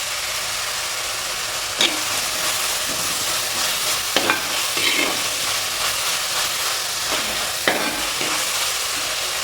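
Sliced onions with salt sauté in a pan for Kerala-style chicken roast, a steady loud sizzle running throughout, with a few sharp scrapes of the spoon across the pan.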